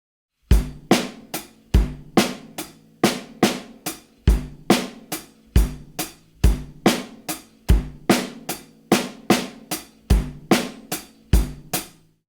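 A drum kit plays a groove in 7 built from bass drum, snare and hi-hat, with steady repeating hits in an odd-meter pattern, close and loud with no talking.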